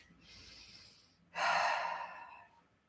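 A person breathes audibly while holding a yoga side stretch: a soft, airy exhale first, then a louder, fuller breath about halfway through that fades slowly, close to the mic with no talk.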